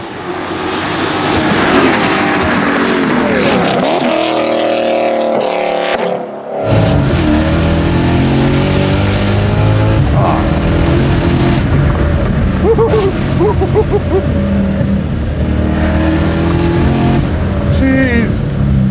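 A supercharged V8 swapped into a BMW E30 roars loudly and close, with rising revs that drop off briefly, then surge back into hard, sustained acceleration with a rough, throaty exhaust note.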